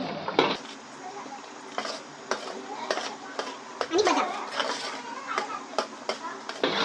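Cashews and charoli roasting in ghee in a pan for a Satyanarayan puja prasad, with a spoon scraping and clinking against the metal in irregular strokes under a soft, steady background and occasional voice.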